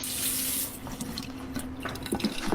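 Water pouring onto a phone in a comedy sketch, a close, hissy stream that stops after a moment, leaving scattered drips and splashes.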